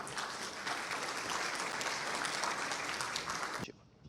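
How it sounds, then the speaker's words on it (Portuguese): Dense audience applause at a legal technology forum, a sustained, even roar of many hands clapping in a hall for about three and a half seconds before cutting off abruptly. "Uma salva de palmas para eles, por favor."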